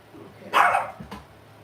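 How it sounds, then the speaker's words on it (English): A dog barks indoors nearby, one loud sharp bark followed by a couple of softer short yips, then quiet. "that's the dog barking"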